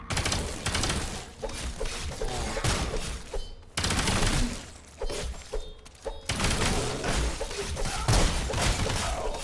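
Sniper rifle shots in a video game, a dense run of loud booming gunfire bursts with sharp thuds, close and continuous with brief gaps, no talk over them.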